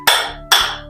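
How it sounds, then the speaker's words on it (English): Two sharp metallic hammer blows ring against hand-held drill steel set on rock in an underground mine, each strike followed by a decaying ring, spaced about half a second apart and close by. "You take your drill steel, you stick it against the rock, you take your hammer"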